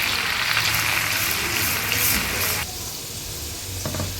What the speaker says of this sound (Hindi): इस मौके पर हमने प्याज को डालकर इसको लाइट ब्राउन करना है।